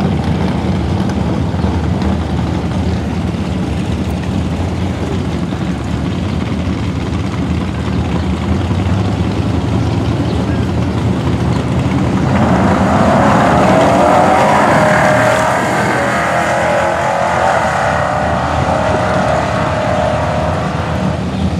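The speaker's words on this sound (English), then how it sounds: "That's a V6 Mustang." An old Ford V6 Mustang drives past, with its engine a steady rumble that grows noticeably louder and harsher midway, as if passing close, then eases off toward the end.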